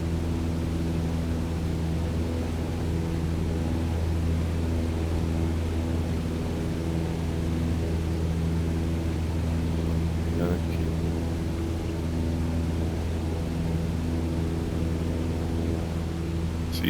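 Steady droning engine of a Cessna 152 light aircraft in level flight in Microsoft Flight Simulator, a constant loud hum with even tonal bands that holds for the whole stretch, with no voice.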